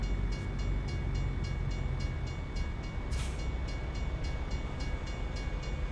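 A train in the American Truck Simulator video game passes with a steady, loud rumble of rolling wagons and rhythmic clacking, continuous throughout, with no talking.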